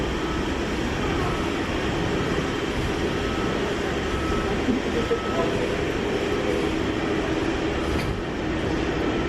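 A four-carriage Viva Rail train heading to Bedford rumbles steadily from inside a carriage, a continuous low drone with faint rattles throughout.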